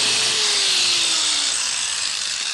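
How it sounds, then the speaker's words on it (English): A power drill bores a pilot and countersink hole in wood for 5/8-inch number 8 screws during a 1982 house renovation, giving a loud, steady, continuous whine with no talk over it. "Drills a pilot hole, and then it makes a big enough diameter hole so that the head of the screw will actually be flush"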